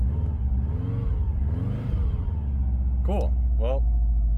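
A car engine idles steadily just after starting on a cold day, a low continuous rumble running throughout beneath a person talking close by.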